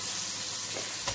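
Chopped onion almost softened, frying in a pan for a garlic rabbit stew, giving a steady close hiss of sizzling oil with a brief stir near the end, no voices.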